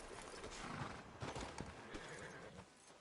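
Horse hooves clip-clopping steadily on the ground in a cowboy video game, a continuous mid-level clatter with a hint of whinnying and no voices.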